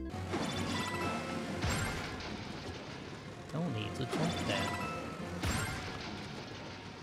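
A car being smashed in a video game: heavy crashes and thuds recur over a dense, noisy driving backdrop, with someone talking over it.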